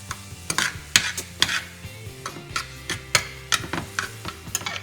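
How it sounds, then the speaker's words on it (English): Onions and meat for a spaghetti meat sauce sizzle in a pan while a utensil stirs and scrapes repeatedly in an uneven rhythm, close and fairly loud, with no talking. "So just sweat these onions for about a minute or two and then add the meat back in."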